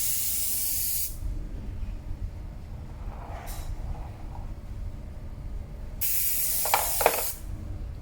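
A Humbrol basic airbrush sprays paint in two bursts of sharp, close hiss, the first about a second long and the second after a pause, with quieter spurts and faint handling between them.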